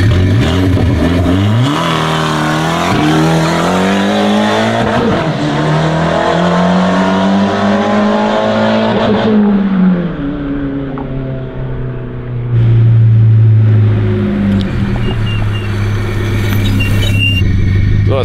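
A front-wheel-drive car accelerates hard in a 0-100 km/h run, the engine screaming and rising in pitch through successive gear changes, loud and close, then easing to a lower steady drone.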